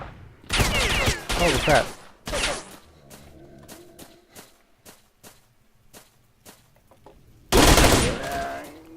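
Gunfire in the video game STALKER: Shadow of Chernobyl, loud bursts of automatic shots near the start and again near the end, with sparse single cracks and footsteps between, and a man's exclamation in between.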